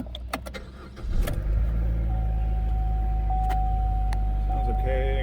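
A car engine in for an overheating complaint cranks and starts after a second of quiet, settling into a steady, loud idle with a faint whine running through it.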